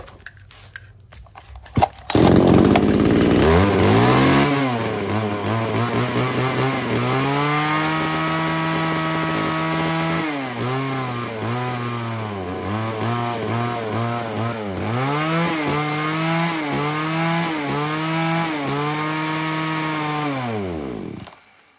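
A used Japanese gasoline chainsaw starts with a sharp pull and then runs loud and close, its engine repeatedly revving up and dropping back to idle in uneven bursts before it dies away.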